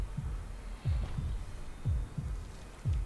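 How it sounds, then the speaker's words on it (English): King Kong's heartbeat in the video game Skull Island: Rise of Kong, a slow, deep, muffled double thump repeating about once a second, quiet and alone with other game sound turned down. "everything turns down so you can hear the fucking heartbeat of King Kong"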